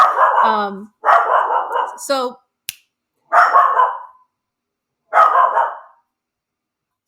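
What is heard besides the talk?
dogs barking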